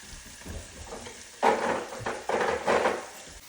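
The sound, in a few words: frying curry leaves and spices in a pan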